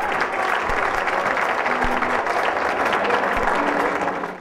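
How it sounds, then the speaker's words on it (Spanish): Audience applause at a televised Elite Model Look 2007 modeling contest: a loud, dense, steady wash of clapping that fills the whole stretch without a break. "Un fuerte aplauso, por favor."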